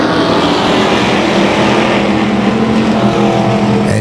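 Pro stock race cars at Tucson Speedway roar away on the green flag. Their engines make a loud, continuous, dense drone for the whole stretch, with no pauses.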